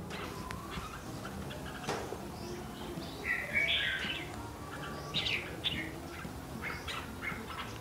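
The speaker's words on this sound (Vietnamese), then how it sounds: "Vậy là còn mấy con chim trong nhà là chim đang lông anh." Small caged birds kept indoors in a Gia Lai home chirp and tweet in short bright bursts over steady background noise, with a few louder calls standing out near the middle.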